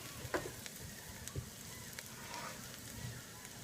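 Rice and vegetables fry in a pan for Mexican red rice, a faint steady sizzle with a few soft clicks and taps of utensils and no talking.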